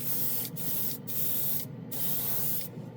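A side-feed airbrush sprays primer onto a model airplane wing in a wide pattern: a steady close hiss broken by several short pauses as the trigger is released and pressed again.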